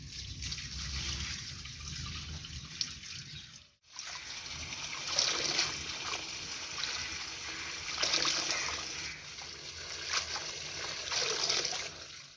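Water trickles and splashes as mustard greens are swished and rinsed by hand, with soft dribbling and occasional splatters continuing steadily, nearby and fairly quiet.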